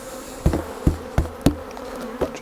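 Honey bees buzz continuously around a beehive super frame, with several sharp knocks against the wood as bees are shaken off, roughly five distinct thumps over the steady hum.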